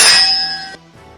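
Sword blades clash in a parry, one bright ringing metallic clang with a shimmering tail that cuts off abruptly, isolated and loud.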